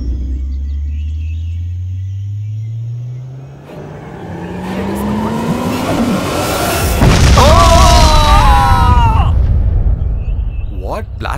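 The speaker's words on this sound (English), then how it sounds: "What blasting sound is that?" A loud blast or explosion in a film scene, arriving as a heavy booming roar after a rising engine-like drone, followed by sustained rumbling, with voices crying out over it.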